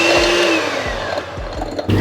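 An electric mixer whirs steadily, beating butter and cheese together for cake icing, its motor tone shifting slightly as it runs close by before a brief clunk near the end.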